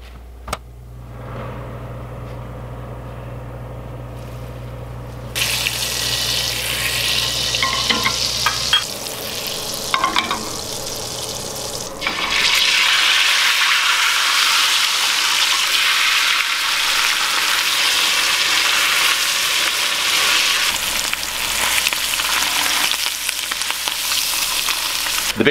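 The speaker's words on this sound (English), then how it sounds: "melt this butter down until there's no more bubbles in it" Butter melting and sizzling in a hot searing pan while cooking steak, a loud, steady frying hiss that swells sharply partway through and stays bright and continuous, with faint stirring and clinks.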